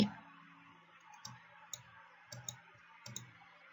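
Soft, close mouse clicks sound in a quiet room, a few scattered single clicks and a quick pair over faint background hiss.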